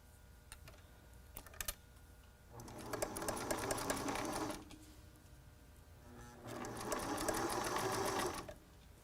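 Sewing machine stitching a face mask cut from a t-shirt with elastic, running in two sustained bursts of rapid whirring, separated by a short pause and a few clicks, close and fairly loud with no talking.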